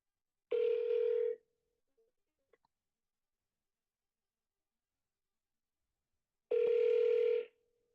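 Two identical bursts of a telephone ringback or ring tone, about six seconds apart with silence between and a couple of faint clicks in the gap, heard during a live phone call to close a land deal.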